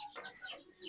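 A broody hen in a free-range chicken run gives a short string of soft, throaty clucks and murmurs, close by and fairly quiet.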